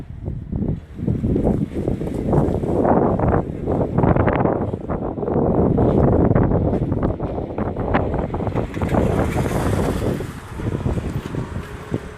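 Strong gusty seaside wind buffeting the microphone on a beach, a loud rushing roar that rises and falls throughout, with faint wave-like wash underneath.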